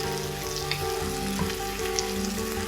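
Soya chunks sauté in a pan, giving a constant soft sizzle with a few light stirring scrapes, close and fairly quiet with no voices.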